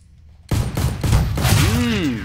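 Rapid bursts of gunfire from a CS:GO match on the Mirage map, several loud close shots in quick succession followed by a rising whine, no voices.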